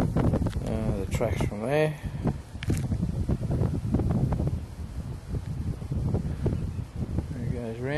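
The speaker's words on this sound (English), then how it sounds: "Now we've got a bit of wind coming up now." Gusty wind buffets the microphone outdoors in the pits of an RC car track, a continuous rough rumble under someone talking close by.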